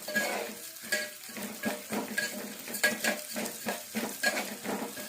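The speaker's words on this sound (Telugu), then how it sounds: "ఒక్క స్పూన్ నెయ్యి వేసుకొని అందులో పెసరపప్పు వేసి బాగా గోల్డెన్ బ్రౌన్ కలర్ వచ్చే విధంగా కొంచెం ఫ్రై చేసుకోవాలి" Moong dal frying in ghee inside a pressure cooker: a continuous soft sizzle broken by repeated scraping and clinking of a spoon stirring against the metal pot, with no voices.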